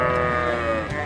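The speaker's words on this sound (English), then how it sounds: "That is a lot of sheep." Sheep bleating in a film set on a mountain, a single sustained, wavering call from a flock, loud and close, heard on its own without talk.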